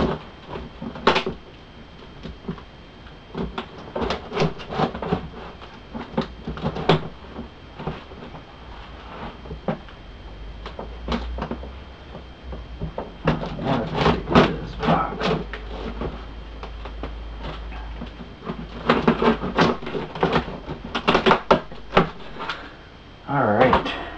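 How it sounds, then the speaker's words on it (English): A heavily taped cardboard box is torn and pried open nearby, giving bursts of ripping tape and flexing cardboard with pauses between them, while a voice talks intermittently. "we're gonna proceed to finishing opening this box. Wow, there's a lot of tape on here."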